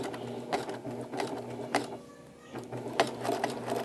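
Hand-cranked sewing machine pushing slowly through a thick rag quilt seam, steady mechanical clunks in an uneven rhythm with a brief pause midway, close and moderately loud with no talking.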